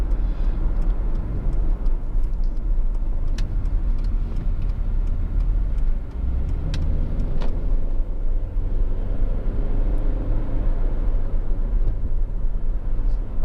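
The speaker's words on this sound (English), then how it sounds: "Driving along, the car tracks absolutely bullet straight." A Honda Accord 2.4 i-VTEC Tourer estate cruises along on a chilly morning, its engine and road roar forming a steady, loud low rumble from inside the cabin, with faint ticks and clicks over it.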